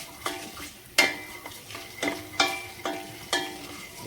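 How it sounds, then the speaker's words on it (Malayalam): Urad dal sautéed in a hot pan while making uppumavu, a spoon scraping and stirring in roughly six distinct strokes with a soft sizzle beneath, close and fairly quiet. "ഇനി അതൊന്ന് ചൂടായതിന് ശേഷം നമ്മൾ ഉഴുന്നു ഇല്ലേ അത് ഒന്ന് സോട്ട് ചെയ്യാം"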